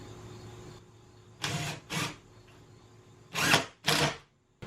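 A power drill drives 1 1/4 inch screws into a support piece for a metal storage shelf in a workshop, four short whirring bursts in two pairs with quiet gaps between.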